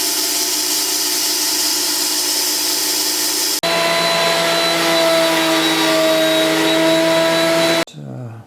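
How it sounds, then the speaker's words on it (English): A bandsaw runs as a steady loud whine while cutting wood for a broken guitar headstock repair, with a short break, a second sustained cutting pass, and an abrupt wind-down at the end. "It's a little too dangerous for the table saw. Run that through the bandsaw."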